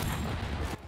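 A single NTW-50 rifle shot in Battlefield 2042, a loud, heavy blast whose roaring burst fills most of the moment before cutting off abruptly.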